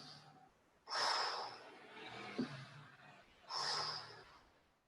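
Slow breaths during a Pilates leg-lowering exercise: two strong, airy exhalations about three seconds apart, close and fairly loud, with quieter breathing in between and no talk.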